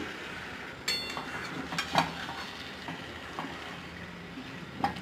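Banana flower frying in a pan with cumin-coriander spice masala, a steady low sizzle with a few soft stirring scrapes and light utensil taps, no voices.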